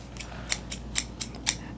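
Scissors snip repeatedly in a quick, fairly even rhythm, five or six crisp metallic cuts close up in a quiet room.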